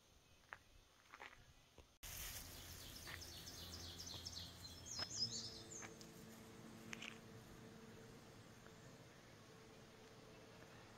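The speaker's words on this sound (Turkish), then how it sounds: "Çok güzel kuş sesleri var." Birds chirp and call here and there against a quiet outdoor hiss in Fundy National Park, Canada, with a few soft rustles and footsteps nearby.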